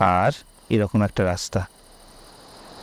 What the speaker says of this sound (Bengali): ঝিঝি পোকার ডাক, বিভিন্ন পাখির ডাক